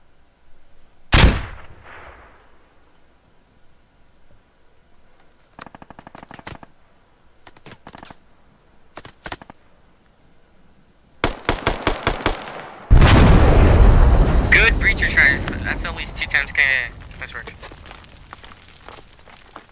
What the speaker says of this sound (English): We're gonna start mortaring the compound itself at Hotel 666